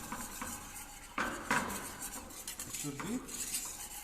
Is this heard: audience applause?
no